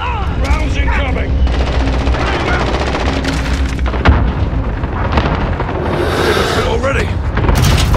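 Cluster strike explosions and gunfire in the Modern Warfare shooter, played with an HK G36C on PS5: a dense, continuous stretch of booming blasts and rattling shots with a sharp burst near the middle, while a voice speaks briefly.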